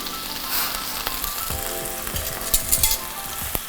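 Noodles go into a hot pan with chicken and setting egg, a loud continuous sizzle with bursts of stirring and tossing scrapes and a few sharper clatters, no talking.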